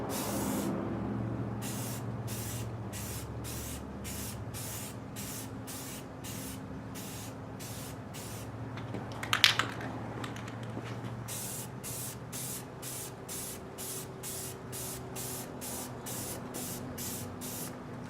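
An aerosol spray can lays paint over dent filler on a Suzuki GS550 cafe racer part, giving repeated short hissing bursts in a steady rhythm, close and fairly quiet, with a brief clatter midway.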